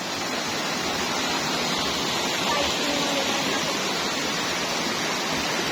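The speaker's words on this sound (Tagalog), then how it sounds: "Yan ang ganda guys ng ilog dito." River water in Cavite flows with a steady, dense rushing hiss, unbroken and fairly loud throughout, with no other sounds standing out.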